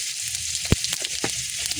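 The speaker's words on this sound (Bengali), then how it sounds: "কড়াইতে তেল গরম হয়ে গেছে, ফোড়ন করছি।" Spices sizzling as they hit hot oil in a wok, a bright continuous crackling hiss with a few sharp pops and spatters, close up and without voices.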